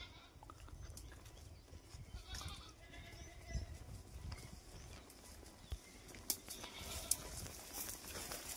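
Goats gathered by a farmhouse give scattered bleats over a faint, busy farmyard background, with soft hoof shuffles and a few sharp knocks, all heard at low level from a short distance.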